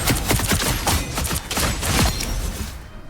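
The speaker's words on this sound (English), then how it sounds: "One solid shot with the shotgun and she pretty much guaranteed dies." Blade's shotgun fires a rapid string of sharp, punchy blasts in the Marvel Rivals video game, many shots close together at an uneven rhythm, loud and up front before cutting off near the end.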